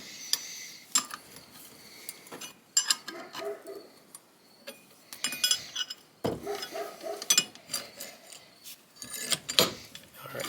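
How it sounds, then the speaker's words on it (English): A 3/4 wrench tightens a nut on an old vise during restoration, giving intermittent metallic clinks, ratcheting scrapes and small clanks in scattered bursts, close up with no talk. "we're going to use the actual 3/4 wrench"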